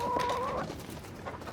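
A speckled Sussex hen clucks in a backyard coop, one close rising-and-falling call followed by softer murmuring.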